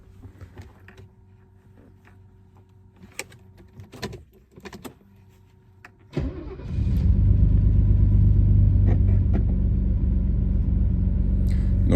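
A Mercedes W126 sits with faint clicks and mechanical shuffles before its engine starts and settles into a loud, steady idle rumble that carries on while the automatic is moved through each gear.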